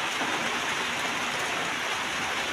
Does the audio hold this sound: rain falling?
yes